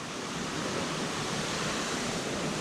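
The Little Zigzag River rushes beside a scenic trail as a steady, dense roar of flowing water, constant and fairly near, with no voices over it.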